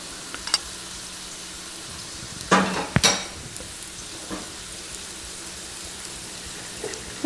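Marinade sauce heats in a pan for stuffed flank steak, a low steady sizzle and bubbling with a couple of sharp clatters of a pan or utensil partway through.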